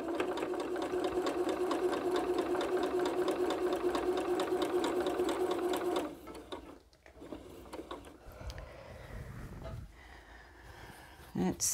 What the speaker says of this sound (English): I'm just sewing some, whoops, squares together here.